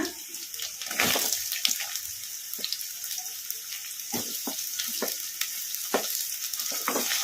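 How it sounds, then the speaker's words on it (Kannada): Chopped onions frying in hot oil in a pan for egg fried rice, a steady bright sizzle throughout with occasional stirring clicks and scrapes, close and fairly loud, no talking. "ಉಳ್ಳಾಗಡ್ಡಿ ಏನು ಜಾಸ್ತಿ ಫ್ರೈ ಆಗೋದೇನು ಬೇಡ ಒಂದು ಎರಡು ನಿಮಿಷ ಎಣ್ಣೆಗೆ ಫ್ರೈ ಮಾಡ್ಕೊಂಬಿಡೋಣ"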